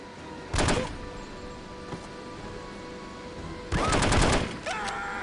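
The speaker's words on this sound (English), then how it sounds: "it seems to make a little difference whether I use a loud gun or not" Gunshots in the stealth video game No One Lives Forever: two loud, close bursts of rapid fire, one early and a longer one near the end, separated by quiet game ambience and a faint thud.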